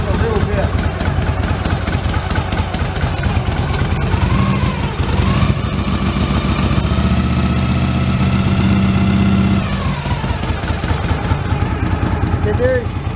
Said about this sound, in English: Motor is running. Now we're showing 12 volts. I'm going to rev the motor up just a little bit.